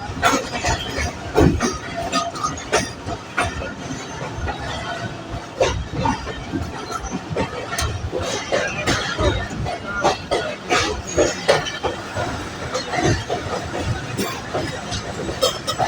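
The Rehman Baba Express passenger train pulls into Hyderabad Junction station, with continuous rolling clatter of wheels on rails, metallic clicks and faint squeals, heard from on board with some background voices.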